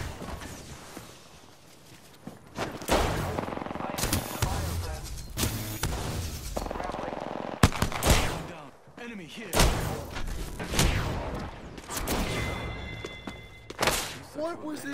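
Gunfire and impact thuds from the video game Apex Legends come in repeated bursts and single heavy shots, with voices talking over the action throughout.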